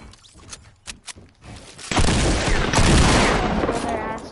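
Video game gunfire: a few scattered sharp shots and thumps early on, then a sudden sustained dense burst of rapid fire that stays loud to the end, with faint talk underneath.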